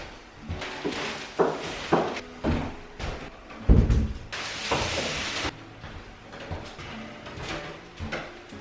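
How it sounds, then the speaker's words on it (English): Interior doors being moved and handled indoors during a bedroom makeover, with scattered knocks, bumps, a heavier thud and a rustling sweep as the doors are set onto plastic sheeting. "All right, plastic's laid out, let's move some doors."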